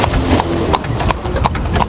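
Horse hooves clip-clop on a street in Guyana, a steady, close, loud rhythm of several hoof strikes on a hard surface, with no talking.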